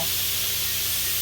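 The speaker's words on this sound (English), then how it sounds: "when you're trying to cook hibachi and burgers all on the same grill" Hibachi and burgers sizzle together on a food truck's flat grill, giving a steady, close hiss of frying that fills the short moment with no talk over it.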